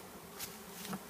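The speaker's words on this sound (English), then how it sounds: "It's really buzzing. They're not very happy with us." Bees buzzing around a beekeeper at an open hive, a faint, steady hum with a couple of brief closer passes.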